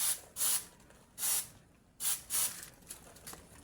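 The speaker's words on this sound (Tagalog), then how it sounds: "Spray mo na doon kasi ang dami." Insecticide aerosol sprayed on cockroaches in a sack, a series of short sharp hissing bursts, five or six close sprays separated by brief pauses, fading to softer puffs at the end.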